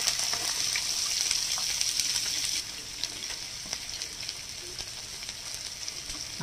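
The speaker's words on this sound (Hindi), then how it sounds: "अब हम इसमें डालेंगे थोड़ा सा प्याज," Onion sizzles as it drops into hot oil with cumin. A bright, loud hiss at first settles after a few seconds into softer, steady frying crackle.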